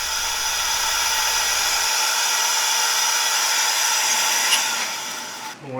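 A power sander works wood with a continuous, loud, steady whir that barely changes for several seconds, then dips and shifts near the end. No one speaks.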